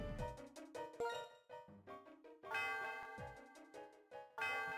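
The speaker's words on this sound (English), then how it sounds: "The sound of the bell reverberates through the area." The Celestial Tower bell in Pokemon White rings out as a series of bright, resonant chimes with ringing overtones, repeating in rhythmic strikes and quite faint overall, with no talking.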